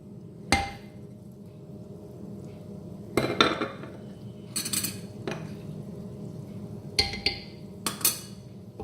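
A spatula scrapes and knocks against a pan as turmeric, black cardamom powder and cinnamon powder roast over low heat for a chickpea and trotter curry, giving sparse, sharp metallic clinks over a quiet background.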